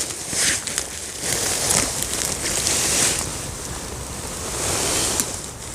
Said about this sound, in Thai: ที่นี่ฝนแรงค่ะ